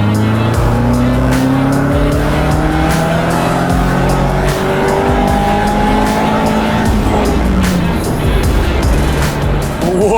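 A Caterham Roadsport race car roars around Circuit Zandvoort, its engine loud and close with rising and falling revs through gear changes and a faint tire squeal. No one talks.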